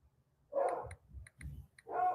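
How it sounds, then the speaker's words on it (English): A dog barks three or four times in short, muffled yips, faint and distant, in an otherwise quiet room. "Sorry about the dog in the background you might be hearing."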